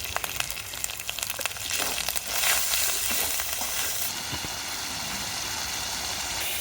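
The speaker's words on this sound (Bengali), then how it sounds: "বাটা মশলাটা কিন্তু আমি তেলের সাথে কিছুক্ষণ কষে আনছি এবার দিয়ে দেবো গুঁড়ো মশলা" Ground coriander, turmeric, cardamom and cumin are added to a masala paste frying in oil in a village kitchen. A continuous close sizzle swells louder about two seconds in as the spices hit, then stays steady with faint stirring.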